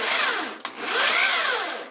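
A power drill whines as it bores holes into wood in a workshop, pitch rising and falling with a brief pause midway, close and loud.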